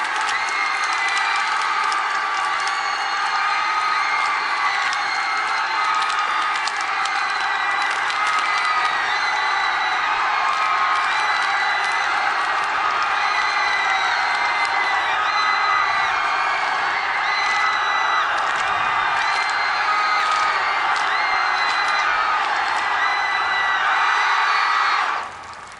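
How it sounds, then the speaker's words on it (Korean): A large crowd at a Korean Armed Forces Day ceremony claps and cheers after a special forces board-breaking demonstration, a dense, loud, sustained roar of applause and shouts that drops away abruptly at the end. "여러분 다시 한번 큰 박수 부탁드립니다."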